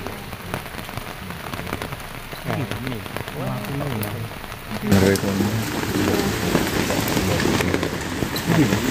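Heavy rain patters steadily on surfaces and grows louder partway through, with people speaking underneath the downpour.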